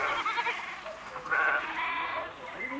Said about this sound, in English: goat herds drive their flock to their pastures